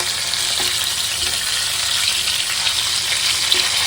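Katla fish cooks in a pan over a gas flame with a loud, steady, close-up hiss of frying and a few faint stirring knocks, with no one speaking.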